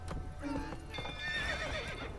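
A horse named Roach in The Witcher 3 video game neighs loudly and gallops with steady clip-clopping hooves, the whinny rising clearly over the rhythmic footfalls with no talking.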